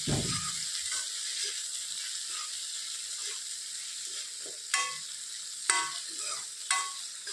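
Tomatoes frying in a pan over low heat, giving a continuous close sizzle with several sharp scraping clacks from stirring and no voices.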